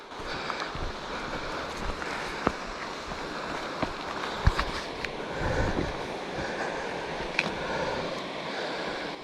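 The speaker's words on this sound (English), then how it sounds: "This sounds like the source of the waterfall." A waterfall's source in a canyon along a trail near Auburn, California, gives a steady, broad rush of falling water, moderately distant and continuous, with a few faint knocks and small sounds over it.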